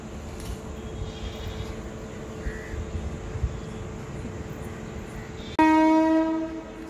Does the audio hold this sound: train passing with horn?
yes